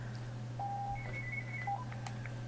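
A phone rings with a series of short electronic tones at shifting pitches, clear but moderately quiet over a steady low hum, with no voices.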